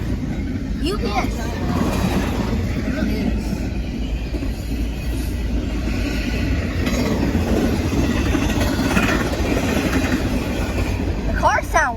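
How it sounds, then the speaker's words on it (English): Norfolk Southern double-stack freight train cars rolling past at close range, a loud continuous rumble with rhythmic clicking from the tracks, while people talk over it. "The cars sound weird. Sound like the tracks are just like clicking."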